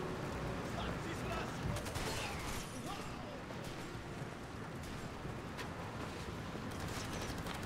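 Dense, continuous gunfire from the video game Far Cry 2 crackles throughout, rapid bursts and scattered shots layered over a busy mix, with a voice talking underneath.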